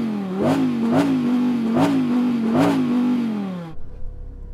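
A post-facelift Audi R8 engine revs hard four times in quick succession, each blip rising and falling in a loud, rhythmic bark before cutting off to a quiet idle rumble.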